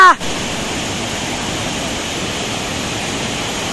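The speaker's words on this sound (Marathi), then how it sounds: "पाणी जोरात वाहत आहे" Usgaon waterfall roaring as water flows forcefully, a dense, steady rushing wash that stays loud and unbroken, with a brief voice at the very start.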